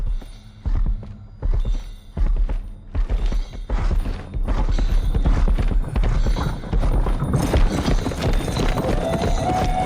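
Horses' hooves clip-clopping on a tree-covered road in the 2024 film Nosferatu: a close, rhythmic run of hoof knocks that thickens into a continuous clatter with carriage rumble, and a brief voice talks over it.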